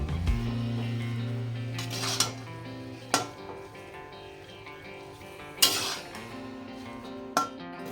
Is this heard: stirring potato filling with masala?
yes